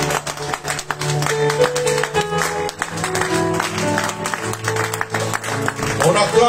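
A church congregation applauds during a worship service, rhythmic clapping mixed with music and a preacher's voice speaking over the crowd throughout.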